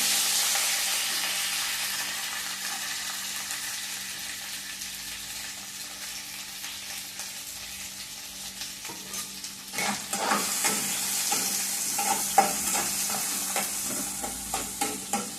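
Onions and curry leaves fry in a pan for a Shivaratri festival meal, giving a steady close sizzle. About two-thirds of the way through, stirring scrapes and rattles break over the hiss.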